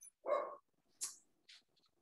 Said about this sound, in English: sounds like my dog is getting disciplined in the other room